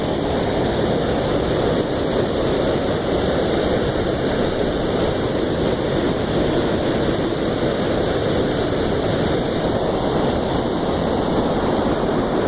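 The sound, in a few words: water pouring over canal feeder weir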